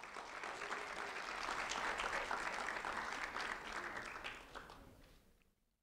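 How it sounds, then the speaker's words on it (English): Audience applause at a community recognition ceremony honouring a fifth-grade student, a dense, even wash of clapping from a crowd that swells, holds, then fades quickly to silence at the end. "a round of applause for Cody Campbell, please"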